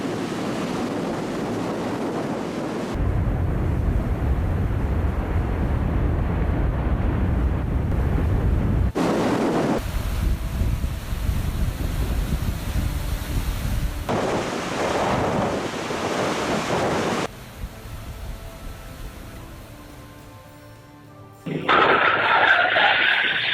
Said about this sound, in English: Massive waves crashed down on a small boat in the open ocean, a heart-tightening moment.